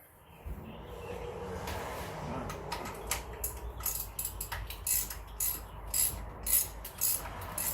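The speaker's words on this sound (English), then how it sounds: "Let me get an actual ratchet." Ratchet clicking while loosening LS1 cylinder head bolts, a run of quick metallic pawl clicks that grows busier and more rhythmic toward the end, close up, with faint workshop background and no speech.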